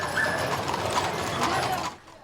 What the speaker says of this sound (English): The horse-drawn wagons rumbling through the historic towns of the Sierra Nevada foothills